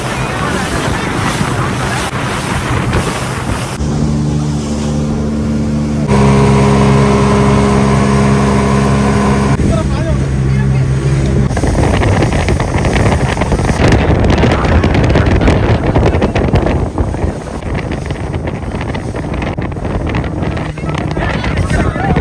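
A motorboat runs on salty sea water, its engine a steady loud drone with shifting pitch under strong wind buffeting the microphone; a voice speaks briefly over it.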